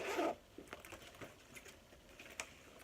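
A plastic zipper on a large backpack is pulled open in a short, quick rasp, followed by faint soft clicks and handling taps.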